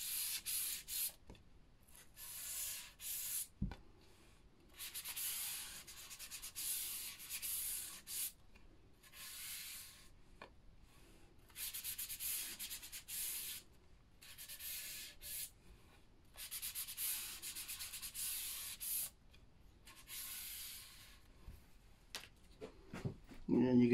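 A wooden keepsake box lid is hand-sanded with 1000 grit paper, a soft, quiet rasping in repeated strokes with brief pauses between them, with a person talking at times.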